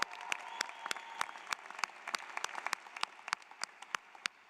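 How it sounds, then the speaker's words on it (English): Light applause from a university commencement audience, quiet and somewhat distant, made of sparse individual claps with a few sharper, closer ones scattered through it. "let's actually clap"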